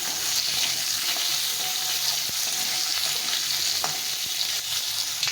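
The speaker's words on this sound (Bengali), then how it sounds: "প্রথমে আমি আলুটাকে দিয়ে দেবো, আলুটা একটু ভাজা ভাজা করে নেব।" Two thinly sliced potatoes fry in a pan, a loud steady sizzle up close with a few sharp ticks and stirring scrapes, no speech.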